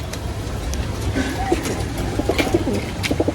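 Pigeons cooing softly in a loft holding several hens, with low burbling calls recurring through the clip over a steady background hum.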